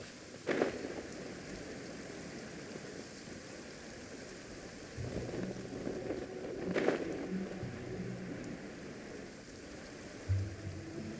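Steady in-game rain hiss fills the scene throughout, with a few brief louder bursts and low rumbles layered in from the game world.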